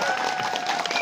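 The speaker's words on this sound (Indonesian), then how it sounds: "dunia akhirat tepuk tangan santri" Students at an Islamic sermon clap together in a dense, continuous burst of applause filling the whole moment, with crowd noise and a faint voice mixed in.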